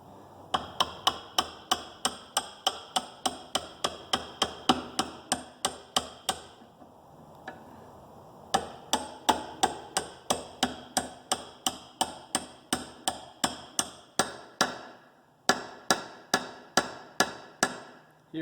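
A hammer strikes a 13/16 socket to drive a pre-chamber into an OM617 diesel engine head, giving sharp, close metallic blows at a steady rhythm in several runs separated by brief pauses.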